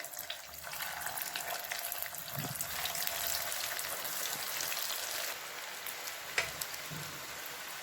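Soya chunks for a crispy evening snack fry in hot oil with a steady close sizzle and bubbling crackle, alone with no talk, one sharper pop near the end.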